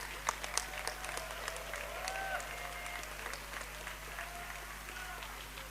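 A forum audience at the Nyéléni Global Forum applauds after a declaration; the clapping sounds faint and distant as a continuous wash, with a few sharper claps near the start and a low steady hum underneath.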